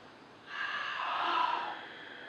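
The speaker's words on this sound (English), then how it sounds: "So you inhale through the nose, exhale through the mouth, and then close it right away." A single long, breathy airflow from a breathing exercise, drawn in through the nose and let out through the mouth, swells in about half a second in and fades toward the end, close and soft with no talking.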